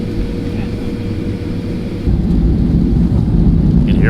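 Passenger plane taking off at Chicago O'Hare Airport, heard from inside the cabin as a steady, loud, low engine roar that swells midway as thrust builds, with a voice talking over it.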